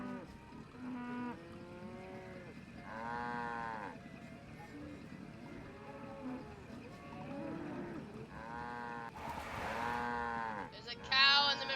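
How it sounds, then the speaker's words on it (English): A cow standing in the road lows repeatedly in a Nancy Drew adventure game, several drawn-out moos spaced across the scene over quiet game ambience, ending with a brief brighter burst of sound. "There's a cow in the middle of the road!"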